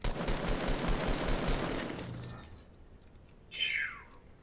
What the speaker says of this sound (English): I shot him in return